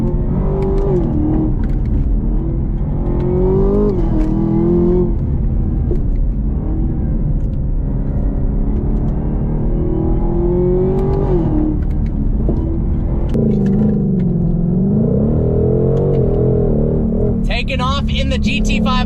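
A Ford Shelby GT500 engine rumbles steadily from inside the car while driving, its revs rising and falling through continuous low drone, with a voice talking over it throughout.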